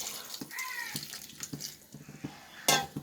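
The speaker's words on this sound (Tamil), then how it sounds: "தண்ணி கொஞ்சம் சேர்த்துக்கலாம்" Water splashes and trickles into a metal cooking pot of sambar, with light clinks of utensils and a brief louder splash near the end.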